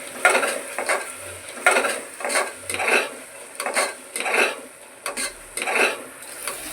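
Garam masala and coriander powder being stirred into tomato rice in a pot, with repeated rhythmic scraping strokes over a soft sizzle, close and steady with no talk.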